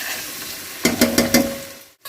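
Green chili and ginger garlic paste are mixed in a hot pan, giving a steady sizzle with a quick run of four sharp spatula scrapes before the sound cuts off abruptly.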